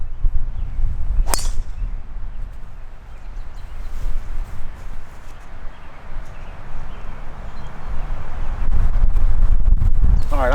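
Strong wind gusts across an open golf course, rumbling steadily in the low range throughout, with one sharp click near the start and a louder buffeting surge toward the end.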